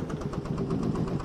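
A Lanz Eilbulldog vintage tractor in Farming Simulator 22 chugs along with a loud, close, single-cylinder thump in a steady rapid rhythm, rough and vibrating.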